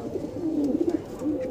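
A single Madrasi Punjabi pigeon with purple feet coos softly up close, a brief low warbling murmur with faint background voices.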